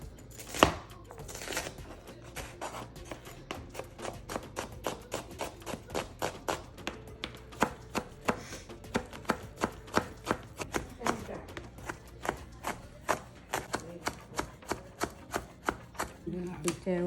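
A knife chops fish into pieces for fish cutlets on a board, with steady, regular close knocks repeating over and over at an even pace.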